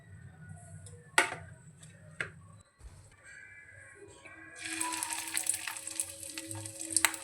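Fish roe fritters frying in hot oil, a soft sizzle with scattered ticks and clacks from utensils, swelling into a louder, steady crackling bubbling in the second half.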